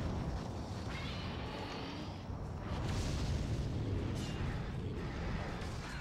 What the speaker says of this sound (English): Fire all rockets!